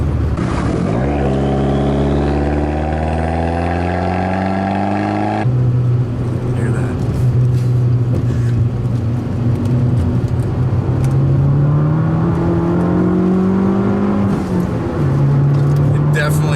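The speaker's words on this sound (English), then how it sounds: "And that turbo sound." A 2013 Fiat 500 Abarth with a turbocharged engine accelerating hard through the gears, rising engine tone with gear changes, heard from inside the car beneath continuous talking.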